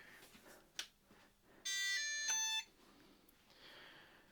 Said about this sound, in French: On va mettre la radio pour l'instant, qu'elle arrête de biper.